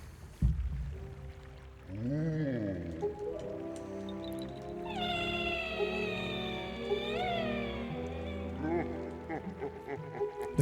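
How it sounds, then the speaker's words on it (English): A hungry cat perched on a cat tree meows and yowls repeatedly, its long rising and falling cries standing out over a background of video game music and sound effects. "The cat is sitting on the cat tree and he's freaking out, man."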